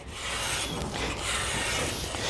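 A Toko edge tool files the steel side edge of a ski in a steady, close, continuous rasping scrape that holds at an even level without pauses.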